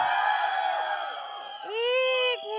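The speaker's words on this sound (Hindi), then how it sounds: "आप आने के पहले लड़कों एक बार चिल्ला के बता दो" Young men in a crowd at a film trailer launch for Love in Vietnam letting out long, loud, sustained yells, one drawn-out cry followed by a higher, rising shout.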